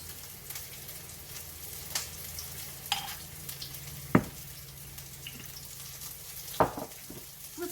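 Soy sauce and oyster sauce are stirred together in a batch, with a soft wet swishing and several sharp clinks of a utensil against the container, spaced irregularly and heard close up with no talking.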